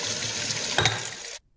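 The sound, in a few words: water from a tap running over a beaker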